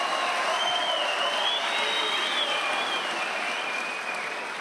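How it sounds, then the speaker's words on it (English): A crowd applauds steadily at a judo club championship final in an arena, a continuous, full-sounding wash of clapping with faint cheering woven through, tapering off slightly toward the end. "What a nice round of applause from the crowd."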